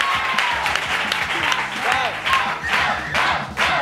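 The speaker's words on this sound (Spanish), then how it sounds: "Para vosotros, ¡este aplauso!" A television studio audience on a Spanish local broadcast claps and cheers in a loud, sustained burst of applause with some crowd voices mixed in, swelling again toward the end.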